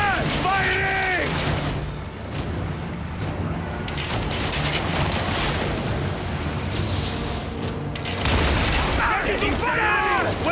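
Ship weapons fire during a sea battle in Assassin's Creed Origins: booming shots over constant water and vessel noise, with shouting voices heard throughout.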